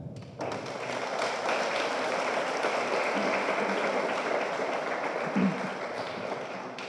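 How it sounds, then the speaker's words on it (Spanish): An audience applauds a doctor introduced at a lecture on water distribution and climate change, a steady wash of clapping that starts abruptly and holds at moderate level to the end, with a few thuds. "Les pido un fuerte aplauso para el doctor Ismael Aguilar."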